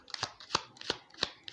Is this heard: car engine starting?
no